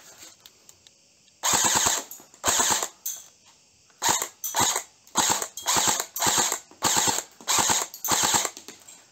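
A Jing Gong JG101 T3-RAS G3-style airsoft rifle fires in full-auto bursts, about eight rapid mechanical rattling strings separated by short pauses, loud and close with no talking.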